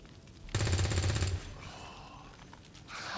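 A loud burst of rapid automatic gunfire in the video game XCOM 2: War of the Chosen, lasting about a second before dropping to softer game ambience.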